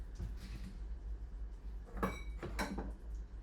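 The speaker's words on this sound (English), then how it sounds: "How am I making so many dishes already?" Dishes clatter twice in quick succession, a pair of distinct clinks and knocks over a low steady hum, while breakfast is cooked for dinner in a home kitchen.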